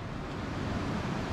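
Floodwater in the Kolpa river at Osilnica, a steady broadband roar of rushing water with no break, heard close and alone.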